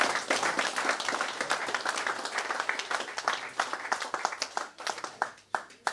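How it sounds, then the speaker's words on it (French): Guests at a 70th birthday celebration applaud warmly, many hands clapping steadily, with the crowd sound thinning into a few separate, sharper claps toward the end. "que vous pouvez applaudir"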